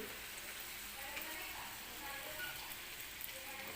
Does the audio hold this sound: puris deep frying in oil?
yes